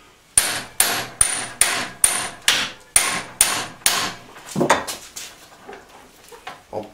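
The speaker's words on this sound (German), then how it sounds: "Ich nehme wieder den kleinen Hammer nur und wir gucken mal." A small hammer taps repeatedly on a 1999 T-Rex toy, about ten sharp, evenly spaced metallic knocks close up, followed by a few softer, irregular taps and clinks.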